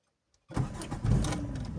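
A car engine cranks and catches at about half a second, then runs on steadily near and loud, with slight revving, during a beginner's driving lesson.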